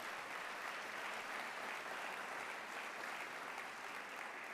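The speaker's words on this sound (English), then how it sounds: "Yeah, let's give a big round of applause." An audience at a university convocation applauds in a dense, continuous wash of clapping that holds evenly throughout, heard from a distance in a large hall with no voices over it.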